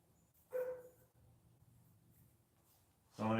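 A dog barks twice, faint and somewhat distant, with a quiet stretch between the two barks.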